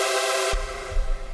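Give Me Access synth preset recreated in Serum 2, a bright buzzy sustained synth tone that abruptly gives way to a deep, throbbing bass pattern, with no talking.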